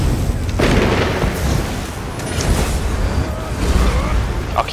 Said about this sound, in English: I'll keep shooting siege until I need to get off.